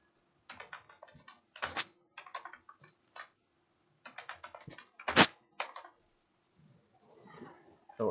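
Fingers type an OTP and a new password on a computer keyboard, with close bursts of clicky keystrokes separated by short pauses and a few louder single taps.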